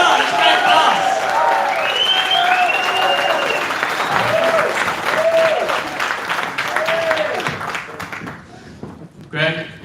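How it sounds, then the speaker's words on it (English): A conference crowd in Ireland claps and cheers steadily, with whoops rising over the dense applause before it thins out near the end. "Let's have a cheer."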